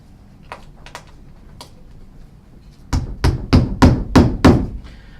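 A hammer drives nails through a snow bracket into a roof: a few light taps, then six loud, evenly spaced thwacks close by, with no talking.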